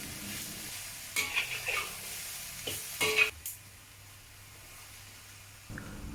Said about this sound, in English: Continue stir-frying over high heat until all the cabbage pieces start to turn soft.